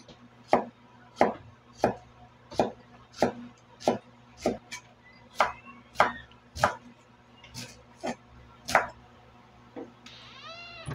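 Steady rhythm of about fifteen sharp knife chops thinly slicing bamboo shoots on a board, close and crisp, evenly spaced, with a faint whistling tone at the very end.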